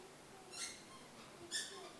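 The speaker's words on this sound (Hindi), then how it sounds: "एक पक्षी" Bird singing: two faint, short high chirps about a second apart over quiet background, with no talk.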